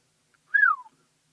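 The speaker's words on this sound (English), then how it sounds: "Hunter whistled as he sat down." A man gives a single short whistle that rises and then glides downward, clear and close against silence.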